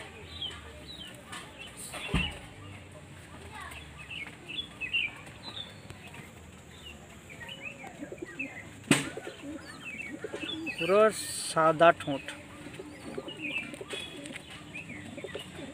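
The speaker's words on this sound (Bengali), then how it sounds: "দেখুন এই হচ্ছে ফিমেল পায়রা।" A white female pigeon coos softly in short bursts amid light chirps and a few sharp knocks, with someone speaking quietly nearby.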